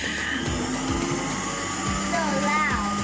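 A juice extractor runs while carrot, ginger and lemon are fed through it, giving a loud, continuous motor whine with a rising and falling pitch and grinding pulses. No one speaks over it.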